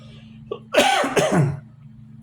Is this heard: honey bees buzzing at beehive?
no